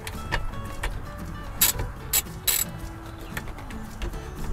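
A ratchet and socket tightening a bolt on a Honda Pioneer 520 roll cage, close mechanical clicking and turning with a few sharp louder clicks, no talk.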